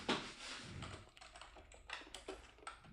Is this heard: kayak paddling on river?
no